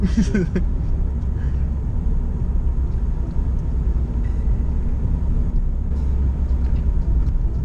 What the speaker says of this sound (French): C'est une voiture d'auto-école, bon.